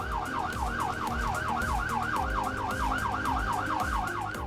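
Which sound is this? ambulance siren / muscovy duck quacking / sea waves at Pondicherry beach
ambulance siren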